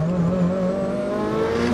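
A 2006 Mitsubishi Lancer Evolution 9 GSR with all-wheel drive pulls hard in second gear, its engine holding a loud, steady drone that climbs slightly in pitch, close and alone without talk.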